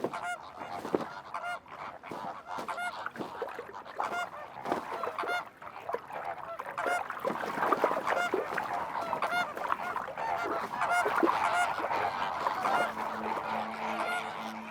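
A flock of flamingos calling together outdoors, a dense, continuous chorus of honking, goose-like calls overlapping throughout, moderately loud and unbroken by talk.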